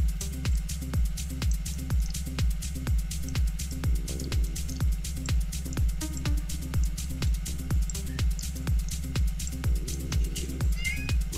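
A cat meows repeatedly against a loud, regular rhythmic beat that pulses evenly throughout.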